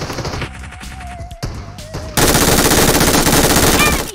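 Gunfire from a favorite weapon in the PUBG Mobile video game: loud, close automatic fire that starts in short rattling bursts, then turns into a sustained, dense volley of rapid shots.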